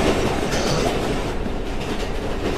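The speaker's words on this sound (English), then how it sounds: "Oh no, that's the train!" A train rumbles past steadily in the Roblox game The Intruder, a dense, loud, continuous roar with faint clattering that stays close throughout, with no voices.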